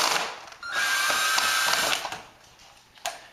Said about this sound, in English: So let me get some of the screws out.